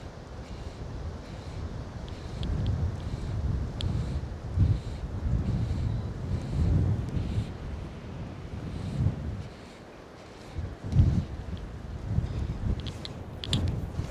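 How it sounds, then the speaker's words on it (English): Gusty wind buffets a microphone beside the River Tweed while fly fishing for trout, with steady low rumbling roar that swells and eases in gusts throughout and no voices. "Oh, this wind is a nightmare."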